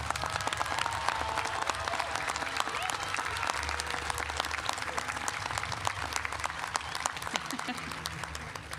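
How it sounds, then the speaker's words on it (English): Sustained applause from a large commencement audience honoring Cal Maritime graduates, a dense, steady wash of clapping lasting the whole stretch at even loudness. "Please join me in a round of applause to recognize the outstanding accomplishments of"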